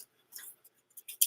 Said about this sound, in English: I just shuffled my cards wrong, so I'm sorting through them to turn them all the right way